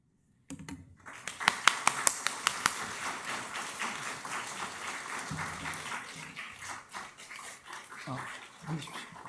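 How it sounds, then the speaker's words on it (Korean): A church congregation at a Sunday worship service applauds to welcome a missionary, with a few sharp individual claps building into steady scattered clapping, while voices and some bumps and movement noise mix in. "한번 자리에서 일어나서 박수로 한번 환영해 주시길 바랍니다."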